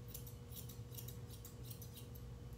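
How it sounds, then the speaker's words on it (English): Grooming scissors snip through a poodle's coat while edges are trimmed into straight lines, a steady run of quick, crisp metallic cuts close by over a low background hum, with no one speaking. "When I'm scissoring around these edges, I'm keeping my scissors straight up"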